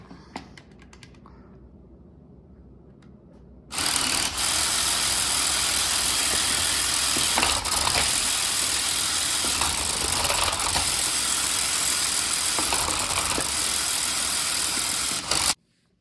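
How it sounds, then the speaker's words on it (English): A VEX Spin Up competition robot with a catapult and rubber-banded intake is switched on, cutting in suddenly with a loud, steady whirring motor drone that runs for about twelve seconds and then stops abruptly, after faint clicks at the start. "the robot's really loud when it's on"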